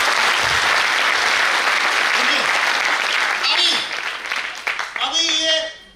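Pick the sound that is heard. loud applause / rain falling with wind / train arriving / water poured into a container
loud applause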